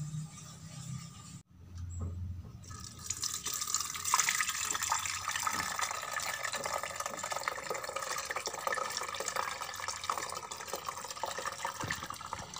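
Homemade caramel chai tea is strained and poured in a steady, soft liquid stream after a brief clatter, the gentle pouring running unbroken to the end with no voices.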